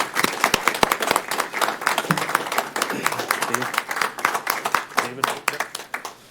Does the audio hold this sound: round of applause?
yes